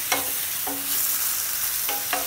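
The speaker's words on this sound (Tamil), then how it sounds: "தக்காளியும் லைட்டாக வதங்கட்டும்" Tomatoes sauté in a pan for channa masala, a steady close sizzle broken by four quick stirring scrapes, two near the start and two near the end, with no talking.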